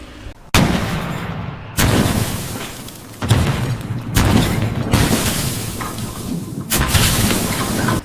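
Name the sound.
explosion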